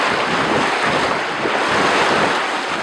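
Strong sea breeze buffeting the microphone aboard a Sabre 42.6 sailboat racing down the bay, with waves washing and rushing steadily and loudly underneath.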